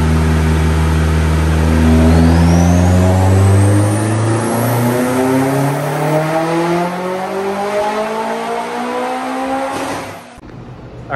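A tuned Mitsubishi Evo X making about 531 wheel horsepower revs loudly up through its range. The engine note climbs steadily, then settles and cuts off abruptly near the end, heard close and alone.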